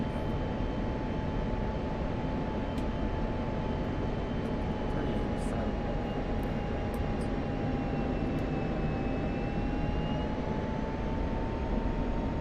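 F-16 Viper jet engine in the DCS World flight simulator, cruising near Mach 0.8: a steady, loud roaring drone with a sustained whine that drifts slightly in pitch, continuous throughout.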